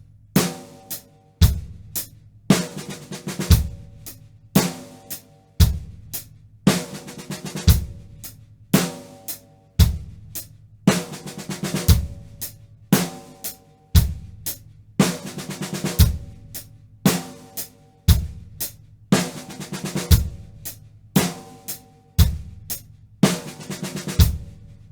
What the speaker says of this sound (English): we're going to do a 7-stroke roll, and we're going to do it backwards